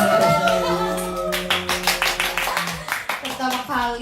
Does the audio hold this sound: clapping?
yes